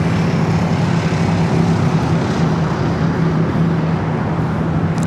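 A Turkish Airlines jet bound for Istanbul takes off from the south side of Los Angeles International Airport, giving a loud, steady engine roar that holds unbroken and fairly close with no voices.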